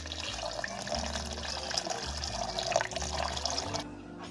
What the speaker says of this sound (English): Then I've put in my 531 grams of rainwater